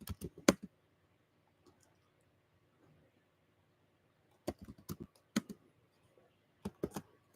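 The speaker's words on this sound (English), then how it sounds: "I'm typing." Computer keyboard typing comes in quick clustered bursts of crisp clicks, close and fairly quiet, separated by a long near-silent pause in a still room.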